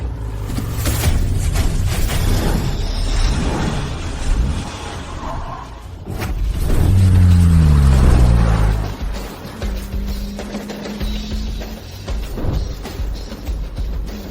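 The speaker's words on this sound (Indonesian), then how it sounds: "Drifting nggak semudah itu." Car drifting through a turn, its engine revving hard with rising harmonic whine and a rough low rumble, loud and close, swelling mid-way then easing back.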